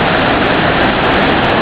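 Steady, loud broadband roar of a waterfall at the Quebra Anzol falls, constant and unbroken with no voices, like heavy water crashing close by.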